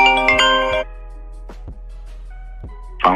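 A phone ringtone plays as a short harmonic melody for just under a second, loud and close. Quieter clicks and brief bursts of handling noise follow.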